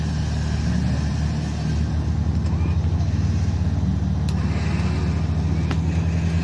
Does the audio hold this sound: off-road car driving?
yes